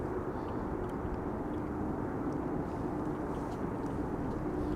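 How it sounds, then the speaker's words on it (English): A Cathay Pacific Cargo aircraft, 13 years old, flies the downwind leg near Amsterdam Schiphol in windy weather, giving a steady, distant broadband engine roar mixed with wind noise that holds evenly throughout. "Cathay Pacific Cargo, 13 years old, first flight November 2011."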